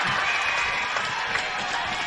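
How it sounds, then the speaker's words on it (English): A crowd at a QAFL preliminary football match between Redland-Victoria Point and Morningside roars and cheers in a steady, sustained wash of noise, with a commentator's voice faintly present. "And don't the crowd love it?"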